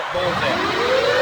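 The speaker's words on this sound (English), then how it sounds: "That's the half-time siren." A rugby league half-time siren slowly rises and holds over the murmur of the stadium crowd, loud and continuous through the short clip.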